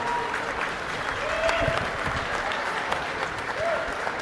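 Audience applause at a youth steer and beef showmanship livestock show, a steady wash of clapping running throughout at moderate level with faint background voices.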